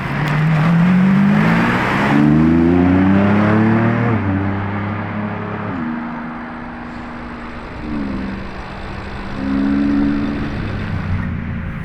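A Lamborghini Urus engine revs and accelerates hard nearby, its loud, rising harmonic roar climbing through several gear-like steps and surging again before fading slightly, with no talking.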